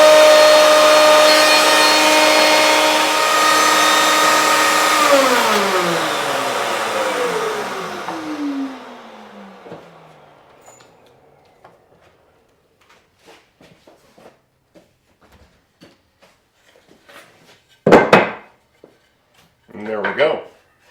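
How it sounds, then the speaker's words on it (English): A router whines loudly as it cuts joinery in a clamped maple bookshelf rail, then spins down and falls silent, followed by light handling sounds and brief talk. "Clamp your rail down, and then routing it is essentially the same process."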